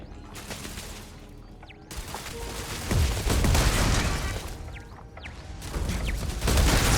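Turret gunfire in the sci-fi game Starfield, with bursts of rapid shots and heavy impacts over a dense, busy combat soundscape that swells louder in the middle and again at the end.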